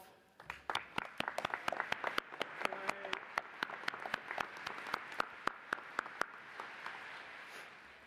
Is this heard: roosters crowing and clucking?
no